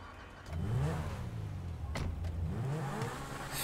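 A sports car engine in GTA 5 revs and accelerates, a steady rising growl with a few pitch sweeps and brief sharp clicks, moderately faint throughout.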